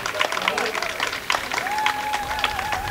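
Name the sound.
audience applause for festival supporters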